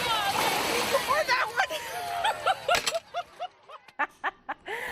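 Water mist sprays from a fire ladder truck onto a park splash pad on a summer night, a hissing wash giving way to bursts of splashing, with children's squeals and laughter throughout.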